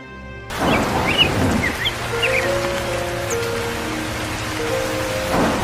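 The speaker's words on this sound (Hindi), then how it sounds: "बताओ अब तो बारिश भी शुरू हो गई।" A cartoon rain effect starts as a soft wash of falling rain, steady and close, with faint bird-like chirps and a low hum underneath.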